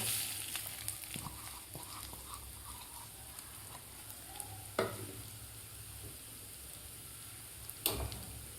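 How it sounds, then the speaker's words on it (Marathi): Grated fresh coconut fries in ghee in a wok over a low flame for a coconut kheer. The close sizzle is soft and continuous, with a couple of sharper scraping stirs partway through. "तर नारळ आपल्याला 1-2 मिनटं तुपामध्ये व्यवस्थित परतून घ्यायचं आहे"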